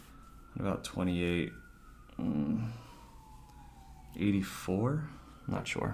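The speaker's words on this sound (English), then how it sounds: "Sorry about the sirens if you hear them." A distant siren wails in a slowly falling tone behind a person talking in short phrases.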